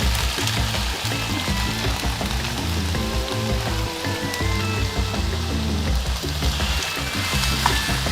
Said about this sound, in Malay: Okey, sekarang kita masukkan yang batang yang kita potong.